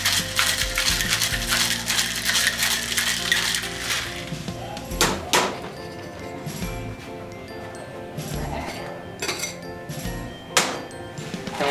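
Ice rattling hard inside a mixing flask as a horchata drink is shaken, a fast rhythmic clatter that turns into looser scattered clinks and knocks as the shaking slows.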